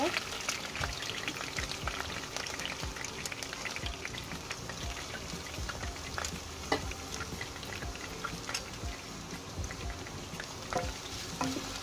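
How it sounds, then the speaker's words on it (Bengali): Chopped onions frying in a pan of oil for a home-style chicken roast give a steady, dense crackle and sizzle with scattered sharp pops, close up and continuous; a voice talks faintly at times underneath. "এখন আমি এর মধ্যে পেঁয়াজ কাটা দিয়ে দেব"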